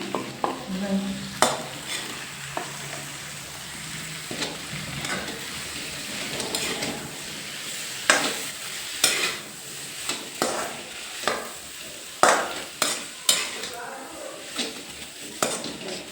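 Vegetables cooking in a pan with garlic and spices, with repeated stirring scrapes and light sizzling, spoon strikes recurring through the second half, and some talk over it.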